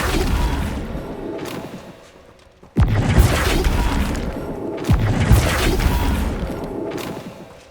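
A Flipendo spell cast in Hogwarts Legacy combat: a sudden loud booming thump followed by rumbling whooshes and a second heavier impact, set against continuous battle ambience.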